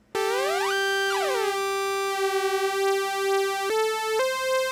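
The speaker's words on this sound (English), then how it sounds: "So there's 2 sine waves." Two sine wave oscillators on a Korg EMX1 synth play a pure tone that sweeps upward into a steady pitch, repeats the rising swoop, then steps up to higher notes, loud and alone.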